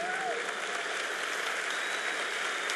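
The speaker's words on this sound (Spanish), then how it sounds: "Vamos a darle ese aplauso a Jesús." An audience at a conference claps steadily and densely throughout, a continuous wash of many hands with no pauses.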